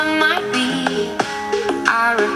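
The song plays as continuous music with shifting notes and steady loudness, heard alone with no talking.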